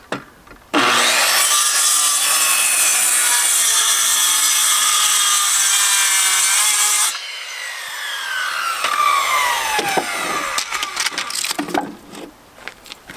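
Circular saw cutting through wood outdoors: a loud, sustained whining cut of several seconds, then the blade spinning down with rough rattling and scraping of the board afterward.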